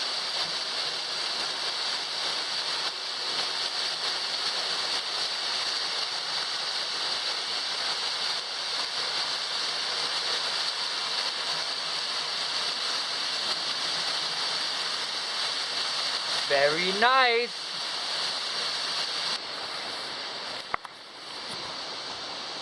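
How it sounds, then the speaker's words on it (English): Waterfall on a Pico de Orizaba hike gives a steady, even hiss of falling water throughout, with a brief voice near the end. "a different view of the waterfall"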